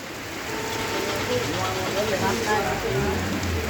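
Steady rain pours down near a roadside hotel in the hill district of Bandarban, Bangladesh, a dense, even hiss of drops on surfaces with a low rumble underneath and faint voices.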